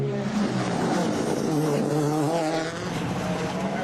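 BMW rally car on a WRC Croatia Rally stage, its engine roaring steadily at high revs with shifting pitch as it drives past, loud and continuous with some tire noise.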